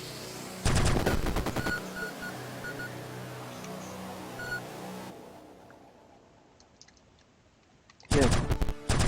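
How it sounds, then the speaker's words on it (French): Gunfire in the top-down shooter video game Neurovoider: two loud rapid bursts of automatic shots, one early and one at the end, with a humming electronic game background between them. "c'est comme super vicieux que t'as des tirs qui passent à travers les murs"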